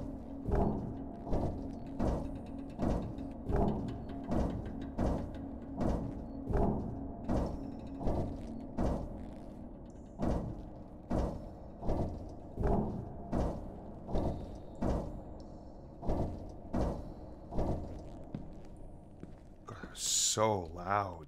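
Doors in the horror video game Demonologist shut again and again in a steady rhythm of about twenty thuds, with a louder clatter near the end.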